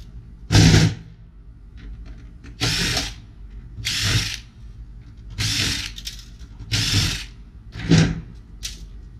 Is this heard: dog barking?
no